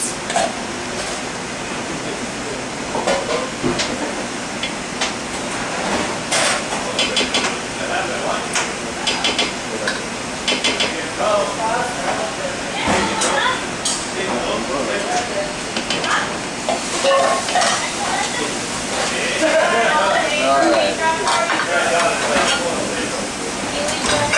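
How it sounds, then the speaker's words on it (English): Peanut butter being mixed with brown sugar, honey and salt makes a continuous churning, scraping sound with uneven knocks and clatter, fairly loud and close throughout. "we're going to mix it until everything is thoroughly incorporated"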